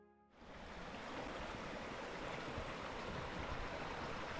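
The Santa Clara River near Pine Valley, Utah flows in a steady broadband rush that fades in over the first half second and then holds at an even level, with no voices.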